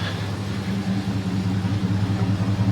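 A 2001 Dodge Durango, just jump-started and fitted with a Flowmaster 40 series exhaust, idles with a steady low rumble and a faint rhythmic pulse, heard close and alone.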